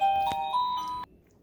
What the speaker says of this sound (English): You hear a driveway doorbell.